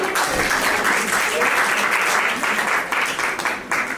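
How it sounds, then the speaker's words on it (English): A crowd at an iftar gathering claps together in a full, steady round of applause that stays loud for the whole stretch, with a faint murmur of voices underneath. "Give yourselves a round of applause."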